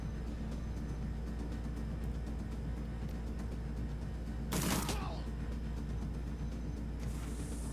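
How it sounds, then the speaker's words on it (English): Shotgun fire during a Shadowrun: Dragonfall firefight comes as a single loud, sharp blast midway, with a softer burst near the end over a steady low background hum. "At least they're using shotguns from far away."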